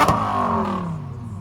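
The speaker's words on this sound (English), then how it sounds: "You better rev your shit, bitch." A car engine at a Hellcat car meet, heard in a short drawn-out whine whose pitch falls away, close and steady.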